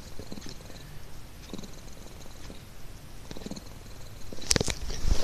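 A cat purrs quietly and steadily close by, a soft low rumble that runs throughout with a few faint rustles and a brief louder knock near the end.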